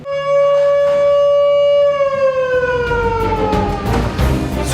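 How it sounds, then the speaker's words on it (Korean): Emergency alarm siren wails across a military base, a loud, steady rising-and-holding tone that begins to sag and fall in pitch after about two seconds as broadband rumble and clatter build beneath it. "갑자기 부대 안에 비상 사이렌이 울린다."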